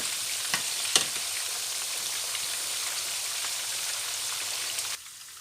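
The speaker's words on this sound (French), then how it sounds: "Et là on va faire revenir nos oignons et avec toute la marinade" Onions with marinade sizzle in olive oil in a pan, a steady crackling hiss with a few sharper pops near the start before the frying noise cuts off abruptly.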